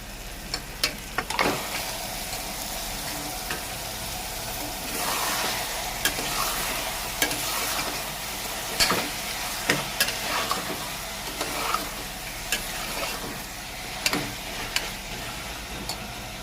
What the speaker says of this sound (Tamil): தக்காளி வதங்கின உடனே நம்ம எடுத்து வச்சுருக்க மட்டனை ஆட் பண்ணிக்கலாம்